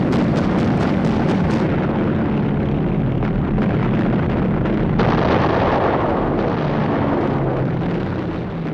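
Heavy gunfire and explosions during an attack on the Japanese carrier Shokaku in the Coral Sea battle, a dense, loud roar of blasts and rumbling with a rapid burst of shots near the start.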